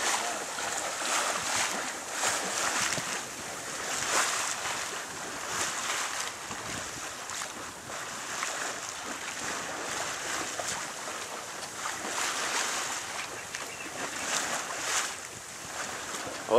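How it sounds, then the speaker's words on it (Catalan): Sea waves slosh and wash against a boat off Mataró, a steady, broad rushing with rhythmic surges and some wind, close and continuous. "Les onades."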